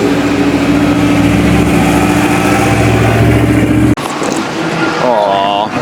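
A diesel truck stuck in beach sand at a Daytona truck meet, its engine droning loud and steady at first, then cutting back to a quieter idle while voices talk nearby.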